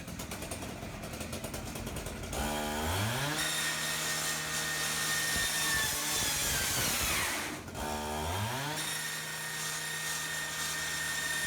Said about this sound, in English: We experimented with all three types of blades that we carry on our gas-powered saws.